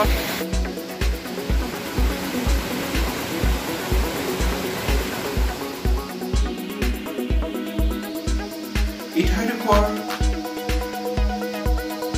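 A waterfall and river at the Kopili picnic spot near Guwahati give a continuous, loud rushing roar, with a regular low thumping beat layered over it throughout.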